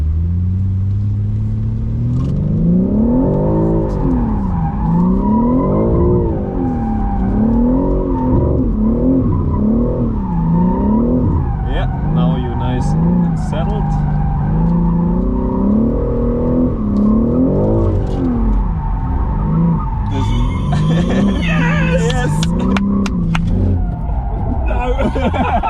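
Red Bull DriftBrothers BMW M3 drifting downhill, its engine revving and rising and falling in steady waves, with rough tyre squeal and scrubbing growing louder toward the end, loud and close throughout.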